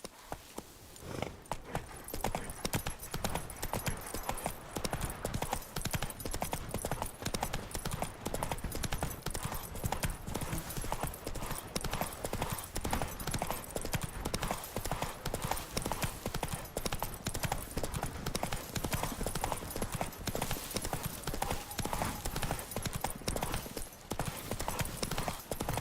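Horse hooves clip-clopping at a steady trot in Witcher 3, a continuous rhythmic patter of hoofbeats lasting throughout, with an occasional snort or whinny.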